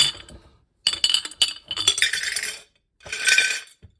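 Several bursts of small hard items clinking and rattling into a glass jar, bright and close, separated by short silences.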